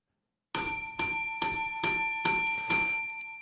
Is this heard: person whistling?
no